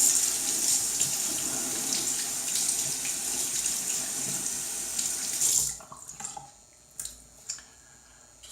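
Water from a tap runs steadily, splashing as it wets a synthetic shaving brush, then cuts off about two thirds through, leaving a few scattered drips and small wet sounds alone.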